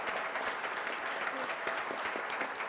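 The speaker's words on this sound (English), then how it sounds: "Let's give a round of applause to all of our panelists." A seated audience claps steadily for the panelists after a talk with John Mackey, a dense, even wash of hand claps that stays at the same loudness throughout with no voices over it.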